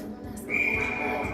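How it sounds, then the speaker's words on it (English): A referee's whistle at a 16U girls' hockey game, one sustained shrill blast lasting about a second over the low rumble of the rink and faint voices. "We're going to get a whistle."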